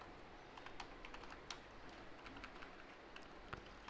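Rapid, faint clicks of typing on a computer keyboard come in irregular bursts, with quick keystrokes and occasional louder taps over a quiet background.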